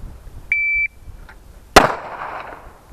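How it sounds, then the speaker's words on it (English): A single pistol round fired after a holster draw on an outdoor tactical pistol course, a sharp loud crack with a short decaying tail, preceded by a brief electronic start beep. "you're gonna draw from the holster and fire one round"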